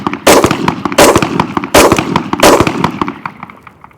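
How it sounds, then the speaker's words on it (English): Shots from a Glock 22 pistol in .40 caliber crack out four times at a shooting range, loud and close, each sharp report spaced roughly evenly with echoing decay between. "Now you're shooting a Glock 22 today."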